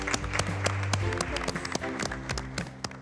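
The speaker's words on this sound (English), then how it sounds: "Hands up and give yourselves a round of applause." Scattered hand claps from a small group, a brief round of applause with voices chatting over it and a low hum underneath.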